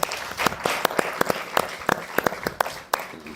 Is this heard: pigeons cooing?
no